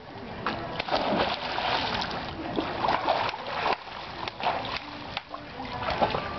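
A cannonball jump into a backyard pool or lake sends up a big, close splash, and the water keeps sloshing and churning for several seconds afterward.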